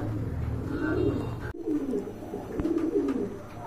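Pigeons coo steadily at a pigeon market where pairs are sold, including black pigeons, a soft layered chorus of nearby birds with a brief break midway before the cooing resumes.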